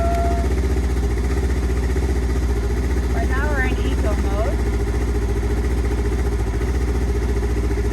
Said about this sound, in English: You hear how the engine idle is going up.